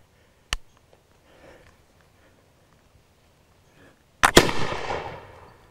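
A Brown Bess India Pattern flintlock musket made by Miroku fires outdoors: a sharp snap of the lock, quiet pause, then a loud flash-and-boom discharge with a trailing echo.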